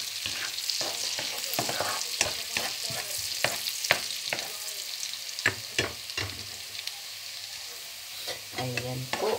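Garlic frying in butter in a pan for butter garlic shrimp, a steady close sizzle with crackling pops and scraping stirs throughout, no talking.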